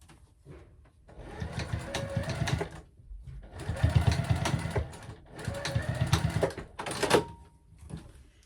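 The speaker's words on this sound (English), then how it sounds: "So now I'm just gonna go ahead and sew across that line" A sewing machine stitches across a marked line on fusible fleece for a clutch purse, running in three loud sustained bursts with short stops between them.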